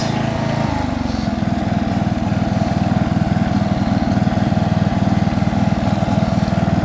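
A small machine engine runs at full throttle with a steady, fast buzzing drone and rapid pulsing, loud and close; its pitch drops slightly early on, then holds even with no talk.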